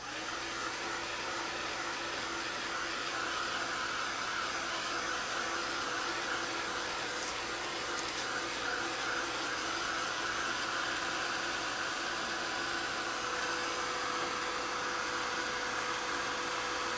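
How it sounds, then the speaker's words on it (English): A heat gun drying muslin for an art journal blows a steady, loud, unbroken hiss of airflow and motor noise close by, with no one speaking. "So I'm going to dry, so here's the heat gun."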